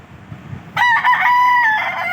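A roundhead gamecock rooster in Tagum, Mindanao, crows loudly and close by, one sustained cock-a-doodle-doo starting suddenly after a brief quiet moment.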